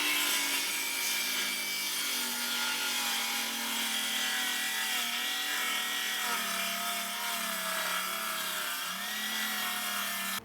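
A saw cuts freehand along a line through a plywood subfloor sheet, a continuous, even, rasping drone held without a break from start to finish.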